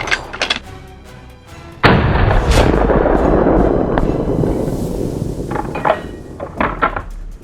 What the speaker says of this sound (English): This time, under a powerful shot, the boar had no chance.